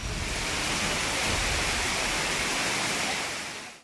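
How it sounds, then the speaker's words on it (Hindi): Torrential rain pours nonstop while floodwater rushes through a flooded neighbourhood in Bettiah, making a dense, loud, steady roar with no break. "जिधर देखिए उधर ही कहर बरपाती हुई तूफानी धारा बहती जा रही है।"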